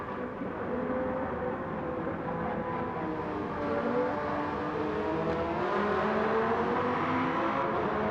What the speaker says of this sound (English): Vex smoking them tyres to try and get that Porsche going again